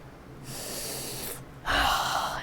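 A video game hunter character sniffs loudly in two drawn-out nasal inhales, the second stronger and harsher, close and alone against a faint background.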